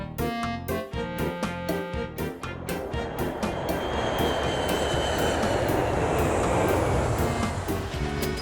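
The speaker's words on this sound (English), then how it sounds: ""Huff-chuff, huff-chuff, huff-chuff," went the steam from the little red train's pistons." A small red steam train rumbles along with a steady rhythmic clatter and piston chugging, starting with sharp repeated beats then blending into a continuous roar, loud and close.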